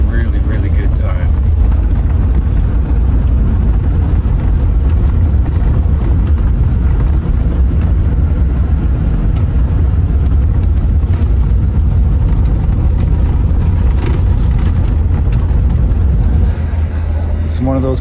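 A ferry boat's engine gives a heavy, steady low rumble that stays loud and constant throughout, with some talking over it.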